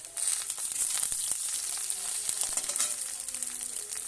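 Onions frying in a pan for a pumpkin leaf bhorta, a steady bright sizzle with scattered crackles and pops running throughout, close and fairly loud, with no talking.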